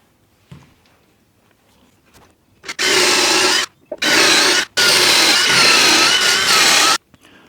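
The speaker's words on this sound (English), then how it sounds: "I'm going to use these holes to drill into this shelf" A cordless drill bores through existing holes into a wooden shelf. It makes loud, close whirring and grinding in three bursts: a short run, a brief pause, a shorter run, then a longer steady stretch of drilling.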